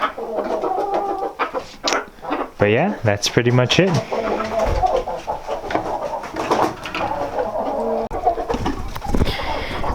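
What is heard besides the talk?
young roosters and jungle fowl crowing and clucking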